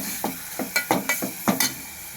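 Onion and tomato sautéing in a pan for tomato soup, with a run of short stirring scrapes and soft sizzling bursts, about seven strokes in a steady rhythm, close and fairly quiet with no talk.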